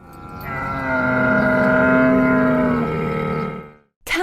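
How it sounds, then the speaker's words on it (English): A camel gives one long, loud, groaning bellow that rises and holds for about three seconds, then cuts off abruptly, with no other sounds around it. "Camel."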